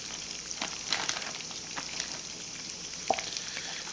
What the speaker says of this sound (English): Letting them fry, baby.